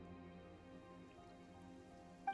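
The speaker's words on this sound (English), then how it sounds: "Why the fuck is it raining?" Steady soft rain hisses in the Fontaine region of the video game Genshin Impact, a faint even wash of falling drops with no talk over it.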